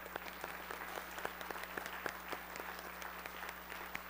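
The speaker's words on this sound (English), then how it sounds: "So give God a round of applause." A small church congregation claps steadily, scattered hands forming continuous applause at a moderate, somewhat distant level.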